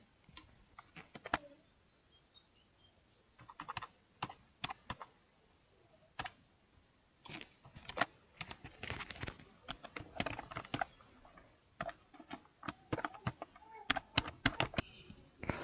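Irregular bursts of keystrokes on a computer keyboard as a long address is entered, close and crisp clicks with short pauses between runs.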